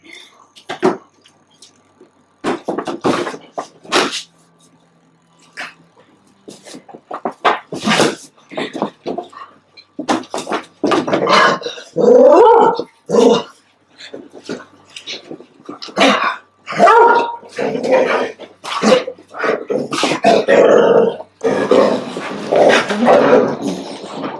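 A husky excited by party balloons gives repeated short whimpers, yips and barks, close and loud, with bursts of a person talking mixed in toward the end.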